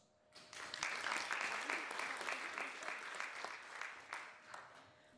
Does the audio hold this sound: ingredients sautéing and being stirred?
no